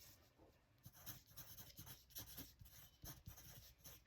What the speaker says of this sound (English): let me write that down on a piece of paper